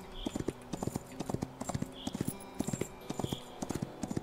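Horse hooves clip-clop in a steady walking rhythm in the video game Smuta, crisp and fairly close, with faint whinnies and ambient background and no talking.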